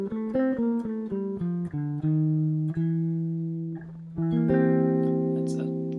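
A single-note bebop line over a dominant seventh chord on a clean-toned instrument, with quick notes that slow into longer held tones, a short pause, then a sustained final phrase.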